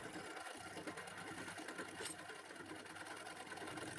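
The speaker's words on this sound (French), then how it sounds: "Les passages des moteurs sont creusés à la perceuse à colonne." A drill press boring motor passages into a part for a giant model rocket in a cellar workshop, giving a steady, continuous mechanical whir that runs evenly from start to finish.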